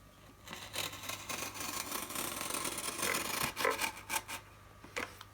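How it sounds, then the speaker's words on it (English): A box cutter slicing cardboard along a metal ruler, with close raspy scraping strokes that build in bursts over several seconds. "I'm just going to use a box cutter to do that"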